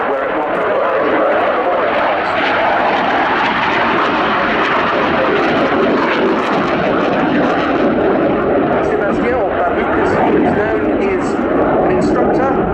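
A French Air Force Rafale jet roars overhead during an air display, a loud, continuous, rushing engine noise that stays dense and unbroken throughout.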